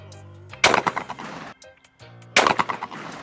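Two loud, close shotgun blasts from a Stoeger The Grand trap gun firing at clay targets on a trap range, each sharp report followed by a short ringing decay, about two seconds apart.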